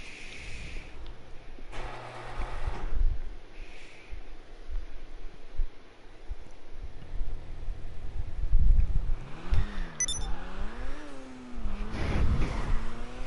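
A Koenigsegg in a driving video game, revving and accelerating with rising and falling engine sweeps. A wind-like rush sits underneath, and the loudest pulls come near the end.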